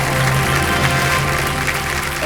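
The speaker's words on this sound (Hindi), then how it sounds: "सर ताली बज गई है" Steady audience applause in a TV quiz-show studio on KBC, a broad continuous wash of clapping with a low hum beneath, holding evenly throughout.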